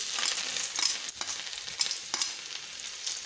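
Finely chopped garlic sizzling and crackling in a hot wok, with a few stirring scrapes breaking up the hiss; close and moderately loud, no voices.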